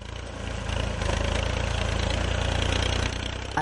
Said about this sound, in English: A tractor transporting maize produce in the Kapchora area.